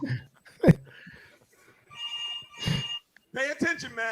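A telephone rings on an outgoing call, a short electronic ringback heard between bits of casual talk by podcast hosts.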